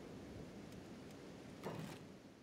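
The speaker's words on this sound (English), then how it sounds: "I think it's acid rain." Steady hiss of acid rain in the video game Starfield fills the scene, with a short swell of rumbling thunder or a gust rising briefly near the end, no voices.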